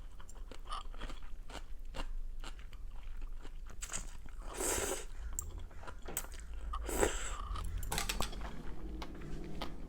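Someone eats cold bibim noodles up close, with soft crunchy bites, wet chewing and a few louder slurping or scraping bursts over a steady low background, with no talking.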